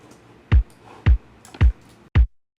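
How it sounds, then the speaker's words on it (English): Four evenly spaced kick drum hits programmed in Ableton Live on beats one through four, each a punchy low thump, steady and alone over faint background hiss. "So I have my kick now on beats 1 through 4,"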